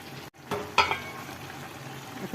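Shrimp and vegetable curry fries in a pan while being stirred, with a quiet sizzle and a few clinks and scrapes of the utensil against the pan.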